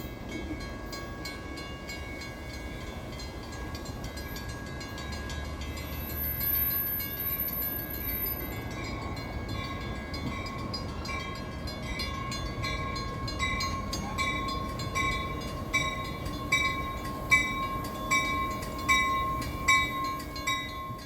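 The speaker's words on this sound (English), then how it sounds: "Next is the Jersey Transit train bound for Hoboken," A New Jersey Transit commuter train bound for Hoboken pulls into a station stop, a steady rumble of rail cars rolling on track with a faint high whine, growing slightly louder with rhythmic clunks toward the end.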